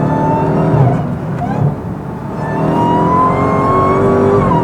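Supercharged Hemi V8 of a Dodge Charger Jailbreak revs and rises in pitch, then eases off with a slight pop, heard from inside the car as a loud, steady engine drone with supercharger whine.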